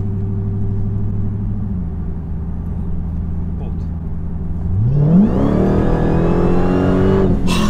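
A 915 HP Dodge Challenger Hellcat rumbles at speed from inside the cabin, then the engine note climbs sharply as it accelerates hard and revs higher toward the end.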